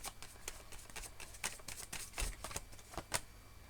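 Tarot cards are handled and shuffled close up, a quiet run of crisp clicks, flicks and papery rustles in uneven bursts, with no voices.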